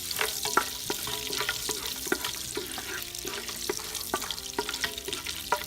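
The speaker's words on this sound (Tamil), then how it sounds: "ஸ்லோ ஹீட்டில் வாசனை சாமானை வதக்கலாம்." Whole spices — mace, cardamom, cloves and stone flower — fry gently in oil over low heat for a Chettinad mutton biryani, a steady soft sizzle with scattered light clinks and stirring taps throughout, no voices.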